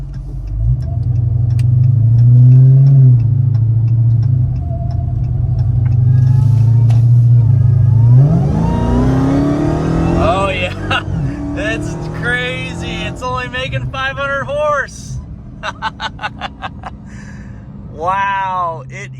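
A tuned 1000 hp Dodge Hellcat rumbles at part throttle, a steady low engine drone that swells then shifts as the car accelerates, with someone talking over the latter half.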